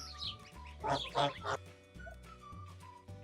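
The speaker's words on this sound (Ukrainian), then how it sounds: "Ну і найменші наші гусенята." Several small, high peeps and honks from week-old Kholmogory goslings overlap close by in a short burst, with a faint hum underneath.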